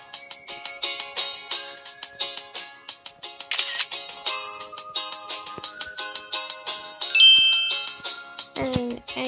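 Camera shutter clicks and chiming tones from taking a selfie in a video game, a series of short bright dings and tinkles sounding in an irregular rhythm over a game music background.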